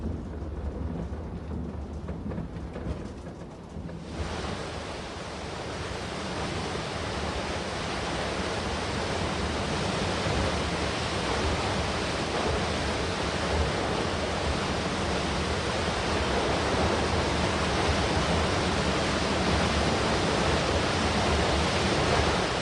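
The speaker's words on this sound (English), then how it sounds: "The falls are formed where the streams of the Rosenlaui Valley cascade 100 meters down the side of the Aare Valley." Waterfall where mountain streams of the Rosenlaui Valley cascade 100 meters down into the Aare Valley in Switzerland, a loud, steady broadband roar that swells after the first few seconds and holds without a break.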